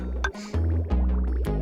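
Short bubbling, gurgling liquid sounds as water fills tiles in the video game Oxygen Not Included, a few close, soft pours in quick succession with a low steady hum beneath.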